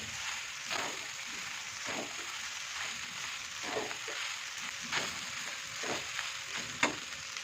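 A spoon stirs a paneer pulao mixture of rice and plenty of vegetables in a pan, with scraping strokes about once a second over a faint, steady sizzle and no talking.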